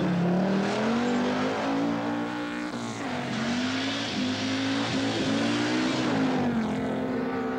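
A privately entered Audi Quattro rally car drives hard on the Swedish Rally, its engine loud and close, rising and dipping through gear changes and throttle lifts in a continuous roar.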